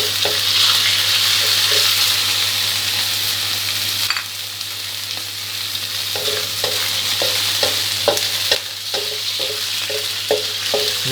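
Pieces of chicken hiss and sizzle in a hot pan while a spatula scrapes and taps rhythmically as they are tossed; no one speaks.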